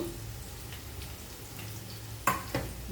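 Cumin and chili powder fry in oil in a pan, giving a faint, steady low sizzle with a sharp utensil clink near the end and a softer knock after it.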